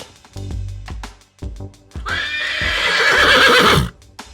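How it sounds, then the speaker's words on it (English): A horse whinnies loudly from about 2 to 3.9 seconds, a long shaky neigh rising and trailing off, preceded by a few soft thumps and hoof-like knocks, with no one speaking. "It's a horse."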